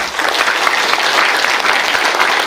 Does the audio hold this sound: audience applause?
yes